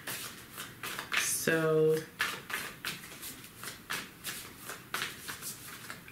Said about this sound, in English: I'm gonna leave it out and I'm gonna keep shuffling.